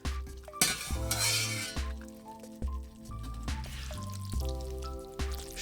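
Cooked pasta is stirred into tuna sauce in a pan, with soft wet sloshing and scraping of a utensil against the pan, gentle sizzling underneath and a few light clinks, all quiet and close.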